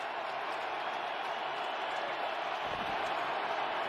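Roaring stadium crowd at an NFL game between the Arizona Cardinals and Dallas Cowboys, a dense, continuous wash of loud crowd noise with no clear breaks.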